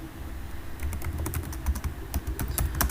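Quick bursts of keystrokes clatter on a computer keyboard during an online lecture, close and crisp, in uneven runs of taps with a low background hum.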